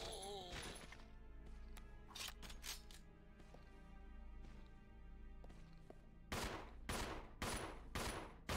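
Gunfire in Resident Evil 0: repeated sharp shots crack in bursts amid game sounds, with a tight cluster of loud reports toward the end.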